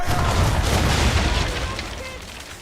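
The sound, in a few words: ship cannon fire in the video game Assassin's Creed 3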